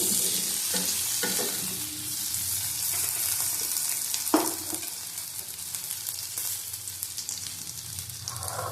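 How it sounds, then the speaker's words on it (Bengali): Potatoes frying in hot oil for aloo dum give a steady, close sizzle with occasional stirring clinks and scrapes against the pan, lasting the whole stretch without any talk. "আলুগুলি ভাজা হয়ে গেছে সব তুলে নেব"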